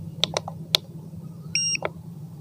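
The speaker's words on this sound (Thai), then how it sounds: "เดี๋ยวเราจะมาฟังเสียงของการเปิดรีโมทนะครับ" A drone remote controller powering on gives a few short, sharp beeps, then a steadier two-tone chime near the end, all close and clear over a quiet low hum.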